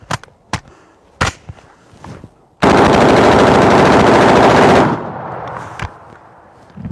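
An AR-15 rifle, overheating and cooking off, lets out a few single sharp shots, then a loud sustained burst of rapid automatic fire lasting about two seconds, followed by more isolated shots, close and very loud.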